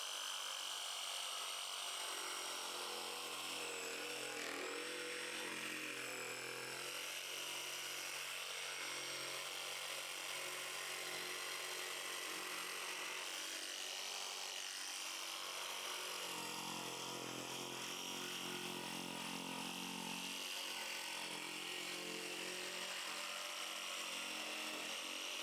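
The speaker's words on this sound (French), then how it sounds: "ça faisait longtemps que j'avais pas une scie sauteuse qui faisait des courbes aussi rapprochées" A Ryobi RJS18 18V cordless jigsaw cuts tight curves in wood with a continuous high, buzzing motor whine and rasping blade noise that shifts slightly in pitch as it runs, close and steady, with no talking.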